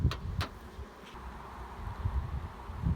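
Honeybees hum in a dense, continuous buzz at the top of a hive stacked with brood box, queen excluder and supers, close and steady, with a few louder passes of single bees.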